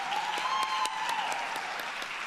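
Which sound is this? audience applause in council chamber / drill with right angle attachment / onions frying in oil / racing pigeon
audience applause in council chamber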